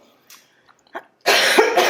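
A single close, loud cough bursts out after a few faint rustles and breaths, then trails off into a rough, throaty rasp.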